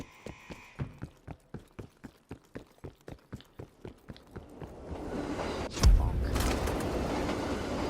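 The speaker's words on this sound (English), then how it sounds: "Train's coming." A train in a first-person shooter game approaches with a steady, evenly spaced clacking rhythm that builds into a loud rushing roar with a heavy thump as it passes close by.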